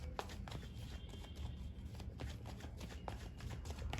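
Tarot cards being shuffled by hand, a steady run of papery riffles and soft slaps with no voices, fairly close and at an even level throughout.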